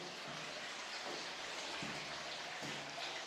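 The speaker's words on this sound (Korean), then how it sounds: "이게 다른 층에서 내려오는 물소리 같은데 개울 물소리 같아." Water rushing down through building pipes from another floor of an apartment, heard from a kitchen back veranda: a continuous, loud, hissing flow like a stream, with a few low thumps mixed in.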